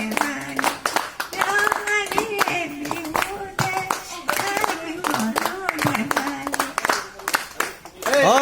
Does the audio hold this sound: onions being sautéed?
no